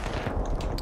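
Gunfire in the video game Battlefield 3 comes as one loud, dense, rumbling burst that fills the whole short moment.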